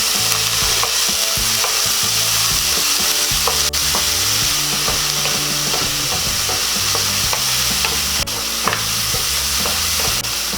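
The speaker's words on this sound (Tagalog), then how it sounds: "Halu-haluin lang natin habang niluluto pa yung ating kamatis." Tomatoes and onions sauté in a pan for sinigang na ulang, a loud, steady frying sizzle broken by repeated scraping and clinking as the mix is stirred, up close, with no talking.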